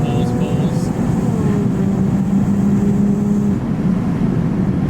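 A supercharged Lexus IS 350 pulls at half throttle on a turnpike, a loud steady engine drone whose pitch rises smoothly, heard from inside the car over constant road noise.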